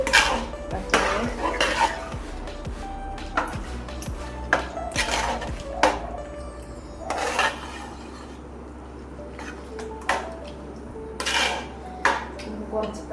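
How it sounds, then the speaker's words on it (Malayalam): Curry being stirred in a metal pot with a spoon, liver added and curry leaves to come, giving repeated clanks and scrapes of utensil on pan in irregular bursts close by, with brief speech between. "നമുക്കിനി ഇത് ഇളക്കി യോജിപ്പിച്ച്"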